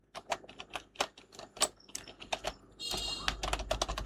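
Quick bursts of keystrokes clack on a computer keyboard as a name is typed out, the taps close and crisp in an uneven rhythm, with a brief hissy noise layered in near the end.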